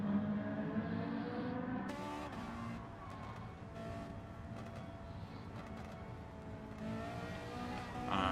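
A Ferrari engine revving in a racing video game at Lago Maggiore, its raspy exhaust note rising and falling in a few throttle blips, fairly quiet and steady with no talk over it.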